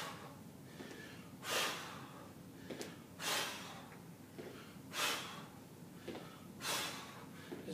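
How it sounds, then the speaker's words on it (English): Exaggerated, forceful breaths during a core warm-up with lateral stepping come in four loud whooshing bursts, evenly spaced about every 1.7 seconds, each a close, breathy exhale over quiet background. "I'm exaggerating breathing really just to give the deeper muscles a little bit more encouragement to work through those movements"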